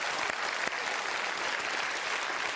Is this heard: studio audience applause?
yes